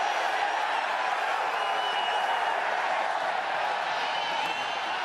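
Rugby stadium crowd at a La Rochelle versus Gloucester Challenge Cup match, a steady dense roar of many voices rising in reaction to a possible high tackle, continuous and loud throughout.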